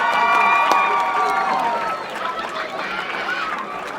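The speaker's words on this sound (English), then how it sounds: "Let's give our Matrics a round of applause." An audience at a school tie presentation ceremony gives a round of applause for the Matric students, a dense crowd of clapping and cheering with chatter, loud and sustained before easing slightly.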